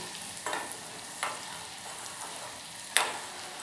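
Herbal ingredients are stirred in hot, foaming oil as a home remedy oil is cooked. A steady sizzle runs throughout, broken by three sharp scraping stir strokes; no one speaks.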